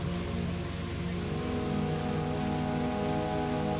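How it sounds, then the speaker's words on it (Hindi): Heavy rain pours down on surfaces in a border area, a dense, steady hiss of drops that stays loud and unbroken throughout, with no voices. "भारी बारिश में"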